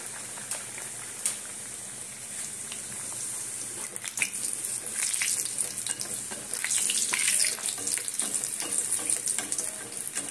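Puris with a roasted gram flour (sattu) filling fry in hot oil, making a continuous bubbling sizzle that swells toward the end, with sharp clicks and no voices.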